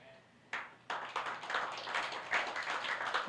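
An audience at a church sermon breaks into clapping, a run of scattered hand claps that thickens into brief applause, fairly faint.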